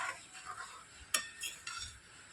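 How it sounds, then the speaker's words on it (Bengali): A spoon stirs puffed rice into milk in a bowl, with soft scraping swirls and a few light clinks against the bowl, close and quiet, with no one talking. "নাড়াচাড়া করে মিশিয়ে নেব।"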